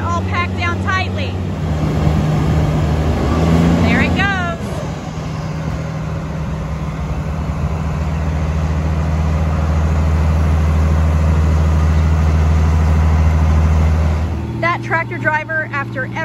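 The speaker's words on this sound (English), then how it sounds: "the tractor driver is going to smooth it out, drive over it, and make sure that it's all packed down tightly" A tractor drives over and packs down a pile of corn silage, its heavy engine droning steadily and rising slightly as it works, with people talking briefly at the start and the end.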